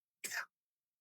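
A single short cough, close and sharp, then silence.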